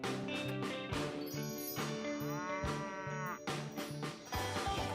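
A farm cow moos loudly in long drawn-out lows, with steady music playing underneath throughout.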